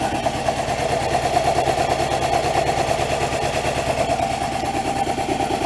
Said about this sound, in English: Alright, so this is a 2011 Chevy Malibu. Engine's shaking pretty bad on it.